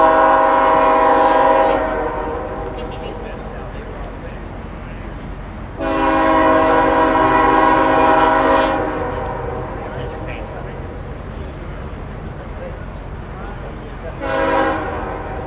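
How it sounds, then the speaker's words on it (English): A CSX Q603 freight train passes Folkston on track 1, its horn sounding in loud sustained blasts, cutting off, returning for a long stretch and then a short final burst, with the rumble of the moving train and faint voices beneath. "CSX Q603 coming by Folkston on track 1."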